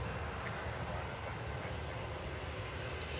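A Ryanair airliner landing from Funchal at Manchester Airport, a steady broadband engine roar heard from a distance without any talk.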